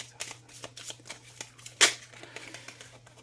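Tarot cards being shuffled up close in a quiet room, a run of quick soft riffles followed by one sharp, louder snap as a card is drawn, then lighter flicks.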